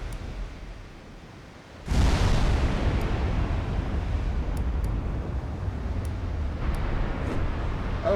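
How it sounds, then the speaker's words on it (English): Naval gunfire and shell explosions in the Ultimate Admiral Dreadnoughts video game: a sudden heavy blast that swells into a long rolling rumble, with faint clicks over it and a second surge near the end, loud and with no talk. "Alright, now they're firing back."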